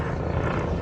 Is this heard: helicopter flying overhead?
yes